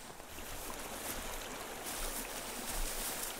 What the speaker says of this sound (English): we've made it all the way down to the little valley with the brook at the bottom